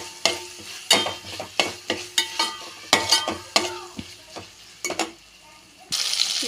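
Tomato, mint and coriander sautéing in a pan, with close, rhythmic scrapes and knocks of a spoon stirring roughly every half second over a faint sizzle, then a steadier sizzle at the end.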